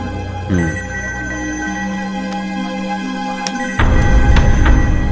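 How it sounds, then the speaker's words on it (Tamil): A telephone rings at a police station, an electronic ring repeating in short bursts over a quiet room, close and fairly loud, before a louder burst of noise takes over near the end. "இந்த நேரத்தில் போலீஸ் ஸ்டேஷனுக்கு ஃபோன் வருது?"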